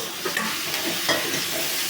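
Pasta sizzles and crackles in hot oil as it is stirred into a homemade chevdo, a short burst of close frying with light scraping and no talk.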